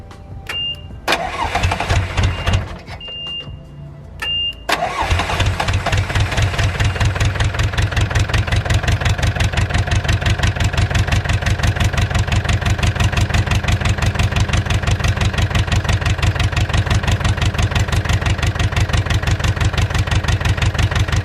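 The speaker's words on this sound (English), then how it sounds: "Alright, so I just got the last injector in. I'm going to go ahead and start it up." A skid steer's diesel engine, fresh from injector cleaning with two injectors loosely connected to the fuel line, cranks briefly and catches, then settles into a steady, loud, close idle that runs on alone.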